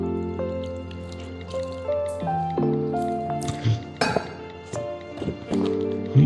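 Soaked urad dal and rice are wet-ground with a little water into idli batter, making soft squishing and irregular clinks and drips close by over a steady tonal background, with no talking.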